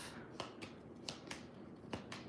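Tarot cards being shuffled quietly at close range, with a handful of brief, crisp riffling snaps spaced irregularly over a soft background hiss.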